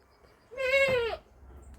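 A single young goat kid bleats once for its mother, a wavering, plaintive cry lasting about half a second, fairly close against a quiet farm background.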